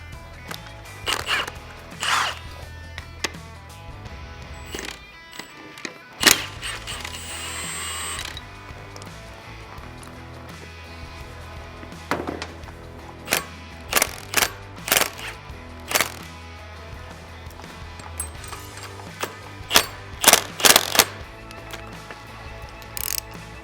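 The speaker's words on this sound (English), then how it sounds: "I'm gonna pull the damper rod bolt, let some oil start to drain." A tool works loose the damper rod bolt on a bagger motorcycle fork during a Legend Axeo cartridge install, giving sharp intermittent ratcheting clicks and mechanical taps, close and fairly quiet, with pauses between bursts.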